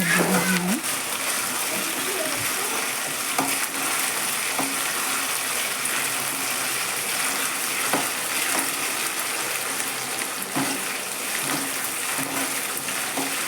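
Garlic paste sizzles and fries in a pan with a continuous bright crackle, punctuated by occasional clicks and scrapes of a spoon, while a person talks throughout.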